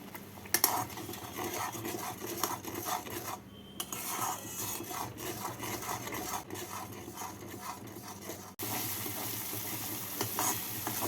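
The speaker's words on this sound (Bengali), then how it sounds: "এবার মশলাটাকে ভালো করে ভেজে নেব" Ground spices (turmeric, cumin, Kashmiri red chili, salt) frying in oil for paneer aloo dalna give a steady close sizzle, with continuous scraping and rasping of a spoon stirring against the pan throughout.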